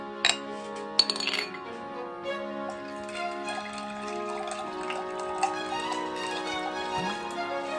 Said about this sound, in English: I have a cup with some ice cubes in it and I'm going to pour some water into it